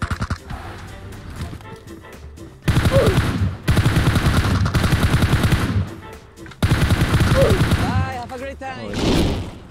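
Bursts of automatic gunfire from the mobile battle royale game PUBG Mobile, loud and rapid, in three long strings with short gaps between them, mixed with game effects and a faint voice.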